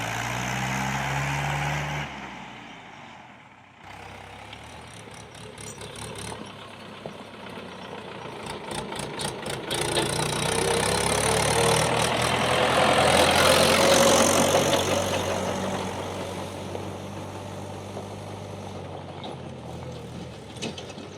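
A tractor engine idles with a steady low rumble, mechanical rattling and clatter, growing louder in the middle before easing off; no talking.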